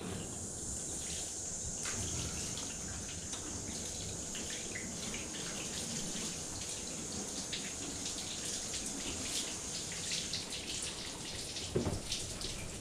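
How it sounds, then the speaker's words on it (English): Garden hose spraying water in a steady sheet over a car's beaded paint during a wash, a continuous close hiss and splash with a brief louder burst near the end. "So we'll just sheet it with the hose."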